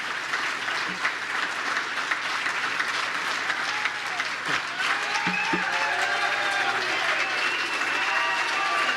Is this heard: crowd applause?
yes